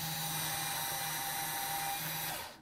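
A power adapter spins a Wilson case trimmer as it trims a brass cartridge case, giving a steady close whirring drone that runs unbroken for nearly the whole stretch before cutting off at the end.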